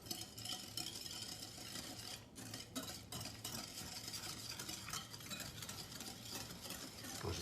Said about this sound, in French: et pour mélanger, vous avez vu, j'ai pris le fouet